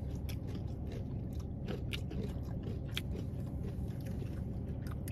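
Repeated crisp crunching bites into a Taco Bell crispy fried chicken wing close to the mic, a chewing rhythm of sharp brittle cracks over a low background hum, no talking.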